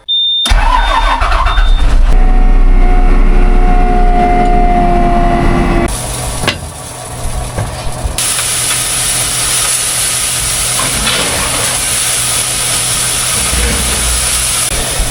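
The engine of a tractor loader runs steadily on a South Australian farm, a loud continuous diesel drone with a brief dip and shift in tone partway through, close by and without talk.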